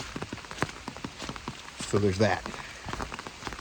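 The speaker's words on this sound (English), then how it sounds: "So it looks like I'm going to walk through the rain for the next 7 hours without a break" Rain falls on the Appalachian Trail during a thru-hike, dense close patter of drops striking nearby surfaces throughout, with a brief spoken phrase partway through.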